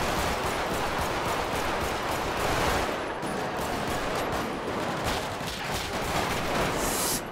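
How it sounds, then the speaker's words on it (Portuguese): Sustained automatic gunfire in GTA 5 as a police team comes under attack, dense rapid bursts of shots rolling continuously and loud throughout. "Estão atirando a equipe da polícia"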